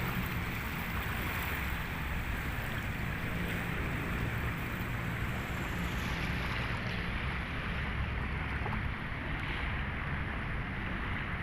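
Dredging boats working on Manila Bay give a continuous low rumble blended with wind and water noise, steady and fairly distant, with no voices.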